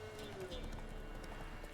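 Horse hooves clip-clopping in the video game Witcher 3, a steady run of soft hoof falls under game music and someone talking.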